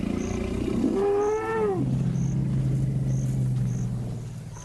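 A wild lion gives one loud, close roar that rises and falls in a drawn-out harmonic bellow, then settles into a low, steady rumbling growl for several seconds, with no voices.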